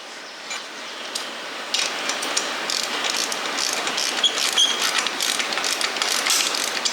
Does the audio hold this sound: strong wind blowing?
no